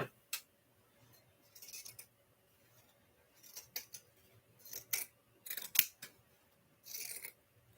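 Scissors trimming fabric seam allowances on a sewn bag, heard as close, crisp snips in irregular bursts with near-silent pauses between them, quiet overall and with no talking.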